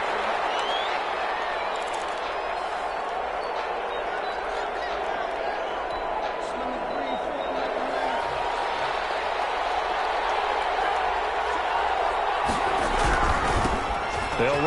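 Steady stadium crowd roar and cheering from an NFL video game, Seahawks against Vikings, a continuous dense wash throughout with a burst of thuds and louder noise near the end, under a commentator's voice.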